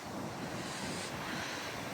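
Strong, cold wind blows at a beach, buffeting the microphone with a steady rushing roar, and surf may wash faintly underneath for a couple of seconds.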